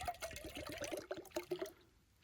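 Water pours in a short, gurgling burst on a mountain trip in the Kamnik–Savinja Alps, close and fairly quiet, tapering off after under two seconds.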